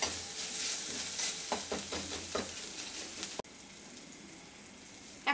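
Cumin powder and turmeric stirred and frying in a pan, a steady close sizzle with a run of rhythmic scraping strokes from the spoon, then a sudden cut to a quieter, even hiss.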